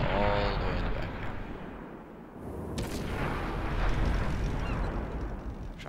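Artillery in a competitive strategy video game match fires early shots. Rumbling booms and blasts are mixed with other game effects under steady commentary.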